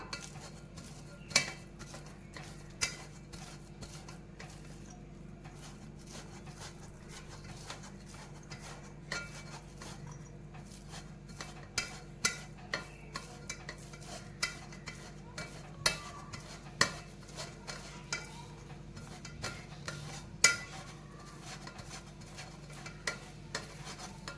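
Hot cooked chana dal for puran poli pressed and mashed through a metal strainer with a tea cup, making repeated scraping, clinking and tapping sounds that grow more frequent over a steady low hum, with no talking.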